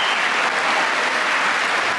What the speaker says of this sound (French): il est longuement applaudi par les élus républicains